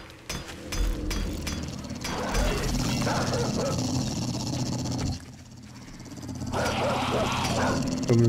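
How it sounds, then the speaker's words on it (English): A hostile dog attacks the player in the survival video game 7 Days to Die, giving loud, close snarling barks and yelps that run almost continuously over steady in-game background noise. "Oh no, I got a dog on me."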